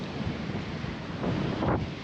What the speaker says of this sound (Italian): Vento, sempre vento, onde formate, scogliere.